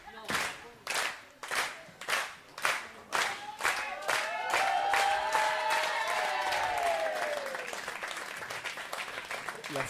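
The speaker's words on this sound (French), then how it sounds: "La foule est en délire." A crowd at a women's bowling tournament in Orléans claps in rhythmic unison, then breaks into sustained loud applause with rising cheers and shouts, fairly close and filling the hall.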